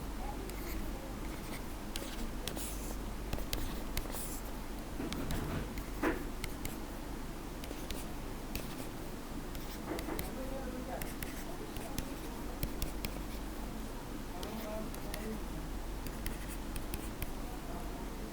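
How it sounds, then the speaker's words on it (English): A pen scratches across paper as a matrix is written out by hand, soft continuous scribbling with small ticks and strokes, close and quiet, with a voice speaking at times. "I will write the previous matrix as it is."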